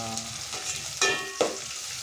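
Ginger and garlic sizzle in a hot pan, a steady close crackle with two sharp stirring clatters around the middle.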